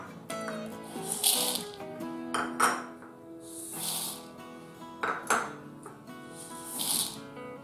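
A big bowl is handled in a home kitchen before washing mixed lentils, giving several bright clinks and knocks spaced a second or two apart, close by over soft background music.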